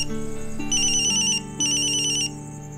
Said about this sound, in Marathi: पण सततच फोन येत होता, म्हणून शेवटी कंटाळून फोन उचलला